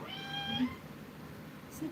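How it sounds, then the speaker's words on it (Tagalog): A domestic cat gives one short, clear meow near the start, with faint voices and room noise around it. "Pusa ko yun ah."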